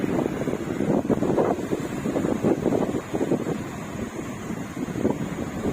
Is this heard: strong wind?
yes